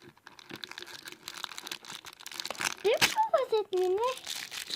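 A plastic bag is pulled off a toy and crinkles in a close, sharp flurry of rustles, while a voice rises over the crackling toward the end.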